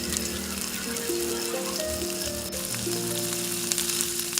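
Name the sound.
Kerala nendran banana slices frying in hot oil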